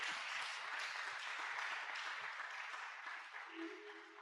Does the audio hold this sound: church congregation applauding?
yes